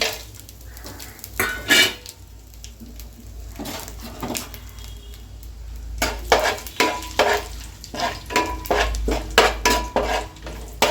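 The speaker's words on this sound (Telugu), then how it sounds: "ఆయిల్ వేడెక్కిన తర్వాత మనం ఓలు గరం మసాలా ఉంది కదండి, ముందు ఇది వేసుకుందామండి" Whole garam masala spices fry in hot oil for chicken biryani, a sizzle under busy stirring, with repeated metal scraping and clatter of a spoon against the pot.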